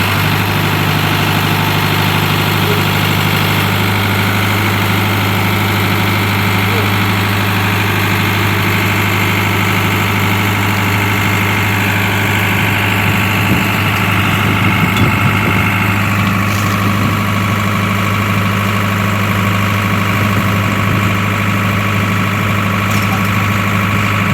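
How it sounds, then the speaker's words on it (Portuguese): Farm tractor engine idling steadily at constant speed for sprayer nozzle calibration, a continuous low droning hum with strong low harmonics and mechanical vibration, close and loud throughout, no speech. "O Ademário vai ligar o trator e vai abrir a vazão dos bicos."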